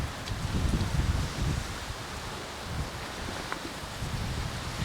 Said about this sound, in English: We're having trouble with wind today, if you can't tell.